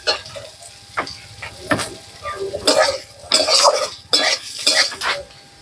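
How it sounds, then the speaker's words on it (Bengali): Moong dal fried in a pan, stirred with a utensil that clinks and scrapes against the metal in irregular bursts, with a light sizzle underneath. "মুগ ডাল দিয়ে রেখেছিলাম, সেটা দিয়ে দেবো। একটু ভেজে নেবো এটা।"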